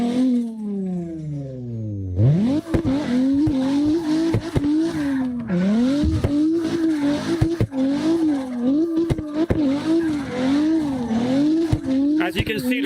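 Cars drift in CarX Drift Racing Online, engines revving in rising and falling sweeps with steady tire squeal, loud and continuous; after an opening engine rev-down, someone talks over it.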